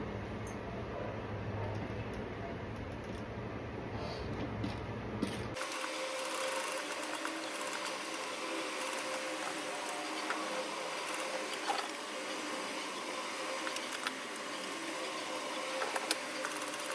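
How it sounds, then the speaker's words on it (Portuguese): A sewing machine runs a steady, continuous stitch on a fabric closure before a button is added, with the motor whirring evenly and close throughout after a quieter opening stretch. "eu vou bater uma costurinha aqui antes de colocar o botão"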